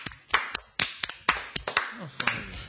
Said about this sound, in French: Et une salve d'applaudissements nourris pour Léonard.